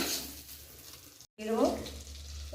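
Prawns fry in hot oil with a soft, steady sizzle that briefly cuts out. A voice talks over the quiet frying.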